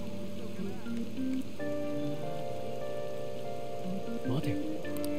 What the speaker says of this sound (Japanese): 雨降ってんのか。